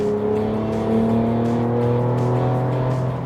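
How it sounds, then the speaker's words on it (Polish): A chip-tuned 340 hp Ford Ranger Raptor pickup accelerates along a straight road, its engine drone loud and steady from inside the cab, pitch gradually rising. "sprawdzimy jak te 340 koni po chip tuningu sobie radzi z przyspieszaniem"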